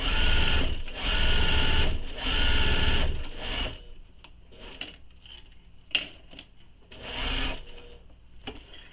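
A sewing machine stitches a crossbody bag in three loud, even runs of rapid mechanical whirring, followed by quieter clicks, taps and one more short burst of stitching.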